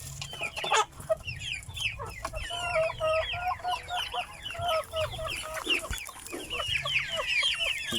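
A flock of free-range chickens and small chicks clucking and chattering busily up close, overlapping calls continuing throughout with some scratching and shuffling noises.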